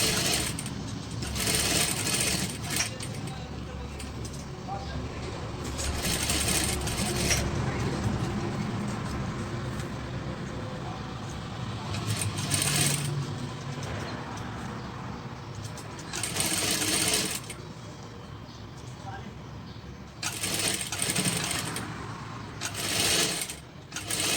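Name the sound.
sewing machine stitching edges of a face mask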